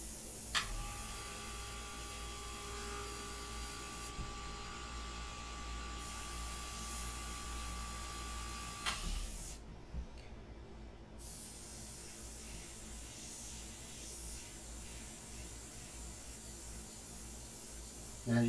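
Custom Xtreme Patriot Arrow airbrush spraying in a steady close hiss while sketching detail work, with a brief pause midway before the spray resumes.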